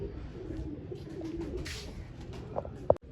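Soft, low pigeon cooing murmurs continuously close by, ending with a sharp brief click.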